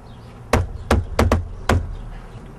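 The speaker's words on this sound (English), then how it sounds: "Shit, Darrien, just knock on the fucking door again" Knocking on a door: five sharp raps in an uneven rhythm, the middle pair close together, close and fairly loud over a low background rumble, no voices.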